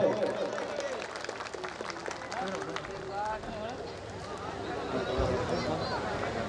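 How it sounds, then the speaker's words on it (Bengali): An audience at a Kali Puja function claps steadily in a continuous wash of applause, with someone talking loudly over it and crowd babble underneath. "একটু জোরে হাততালি চাই সবাই।"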